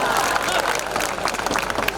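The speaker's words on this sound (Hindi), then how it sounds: "जिनको समझ में आ गई वो ताली बजा रहे हैं" Audience applause at a Hindi comedy or poetry stage show, a dense steady wash of clapping from a crowd that holds at an even loud level for the full two seconds, with faint crowd murmur mixed in.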